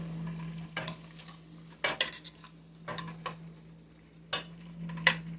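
Seasoning is stirred through Cajun holy trinity vegetables in a pot, a utensil scraping and clinking against the metal in a series of separate strokes over a low background hum.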